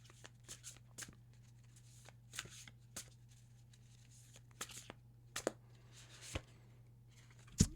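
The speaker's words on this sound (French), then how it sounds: "Je vais retirer une carte" Playing cards shuffled and drawn from a deck during a card reading, heard as a series of soft, brief close riffles and snaps spread over a quiet background with a low steady hum.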